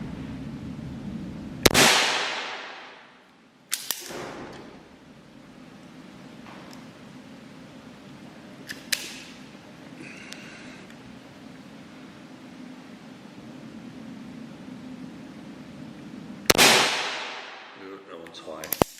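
Crosman E9A air rifle firing pellets indoors in a small confined space, three sharp, loud cracks spaced several seconds apart, each with a brief ringing decay, over a steady low room hum.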